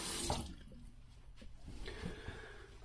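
A safety razor is rinsed under a running faucet in a sink, with a steady splash of tap water and a brief louder gush at the start. The flow continues as the razor is moved under the stream.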